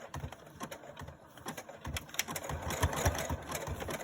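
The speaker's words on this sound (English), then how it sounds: "you just turn it and keep sewing. Oh, this is a really thick corner." A sewing machine stitches through a thick quilt corner, with rapid uneven mechanical clatter and thumping needle strokes that go on at close range without speech.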